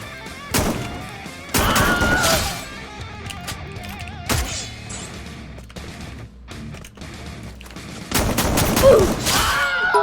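Mag-7 shotgun blasts in Free Fire, a few heavy booming shots spaced apart with crashing impacts between them, loud and near.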